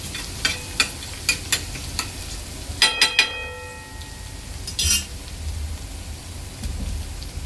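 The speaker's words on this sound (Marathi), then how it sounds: "इथे लसूण आपल्याला 2 ते 3 मिनिटं चांगला तेलावर परतून घ्यायचा आहे" Garlic frying in oil for a dried prawn masala, with a soft sizzle under a series of crisp taps and scrapes of a spoon against the pan, close by.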